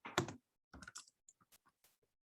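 Someone types a property address on a computer keyboard: a short, quiet burst of close keystrokes, then a few scattered single clicks, with silence between them.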